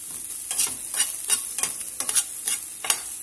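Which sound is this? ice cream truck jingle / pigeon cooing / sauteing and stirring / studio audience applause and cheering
sauteing and stirring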